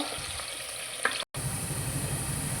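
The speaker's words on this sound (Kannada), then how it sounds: "ಈ ಎಣ್ಣೆಗೆ ನಾನು ಈರುಳ್ಳಿನ ಫ್ರೈ ಮಾಡೋಕ್ಕೋಸ್ಕರ ಹಾಕೋತಾ ಇದ್ದೀನಿ ಈರುಳ್ಳಿ ಫುಲ್ಲು ಕೆಂಪುಗೆ ಫ್ರೈ ಆಗಬೇಕು" Onions frying in hot oil for a vegetable biryani, a continuous dense sizzle broken by a brief dropout, then resuming loud and even.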